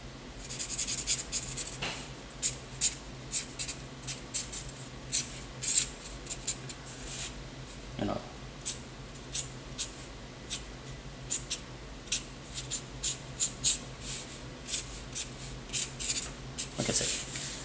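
Pencil sketching on paper in a rough sketch: close, quiet scratchy strokes in short repeated bursts with small pauses, steady and unhurried throughout.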